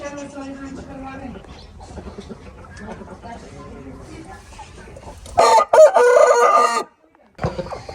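A large fighting-breed rooster crows loudly and close by in one long, strained call, with quieter clucking and background talk before it and another short crow starting at the end.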